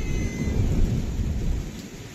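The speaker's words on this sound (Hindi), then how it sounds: "ये देखिए गाइस कैसे चाल चमक रही है और बादल गरज रहे हैं।" Thunder rumbles through a storm over Nainital in the cold season, a loud, continuous low roll with rain noise beneath it, no voices.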